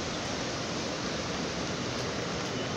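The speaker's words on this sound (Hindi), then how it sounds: "ये जो लगे हुए हैं ना फैन, इनमें से पानी निकल रहा है, चारों तरफ से पानी निकल रहा है" Fine water spray hissing steadily from misting fans mounted all around a crowded outdoor area, a broad, even wash of white noise close by with no breaks.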